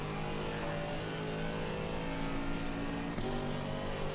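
Racing GT4 car engine in Assetto Corsa, driven hard, producing a steady, dense drone with layered tones and a brief dip in pitch near the end, like a gear change, continuous and fairly quiet throughout.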